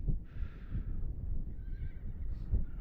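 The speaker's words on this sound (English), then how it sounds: "Horses are a bit bouncy and jumpy in the front there." Polocrosse horses at a match give a clear whinny, with a second, shorter neigh following, over a low rumble of hooves and field noise.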